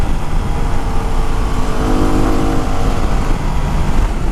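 A Yamaha WR250R dirt bike runs steadily while riding a muggy trail in the Santa Cruz Mountains, a loud, close engine drone with wind rush and no voice over it.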